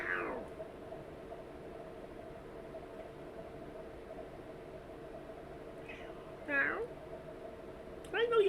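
A cat meows a few times, once at the start and again near the end, fairly close, with a person's voice also present.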